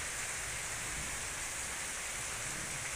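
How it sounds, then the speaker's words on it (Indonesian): Heavy rain pours in a dense, unbroken roar that holds steady throughout, with no voices. "hujannya deras"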